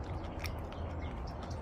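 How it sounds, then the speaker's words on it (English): Close bites and chewing on a fresh organic peach eaten with its fuzzy skin on, soft wet crunching and squishing mouth sounds in quick succession with no talking. "I'm just going to eat it like that"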